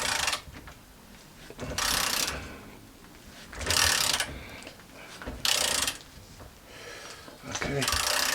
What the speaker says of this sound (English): Your 15mm long socket. We'll break the seal.